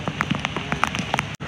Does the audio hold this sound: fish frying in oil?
no